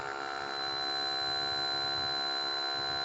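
A smart home fire alarm buzzer drones steadily at a constant pitch for the full stretch, loud and close, with a faint electrical hum underneath and no talking.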